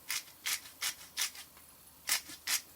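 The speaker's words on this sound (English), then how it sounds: "We just grind away hard on the salt there." Salt being ground hard in a hand grinder for a winter melon soup, a run of short gritty rasping twists, five bursts then two more after a brief pause, close and moderately loud.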